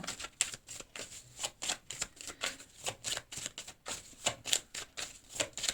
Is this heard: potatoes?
no